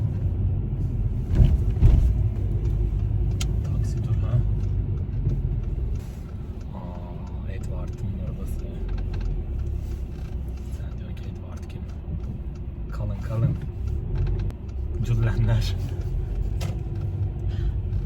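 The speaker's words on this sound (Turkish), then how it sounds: "Şimdi buranın bir trafiği var" Steady low road-traffic rumble heard from inside a moving car, continuous throughout, with people talking over it.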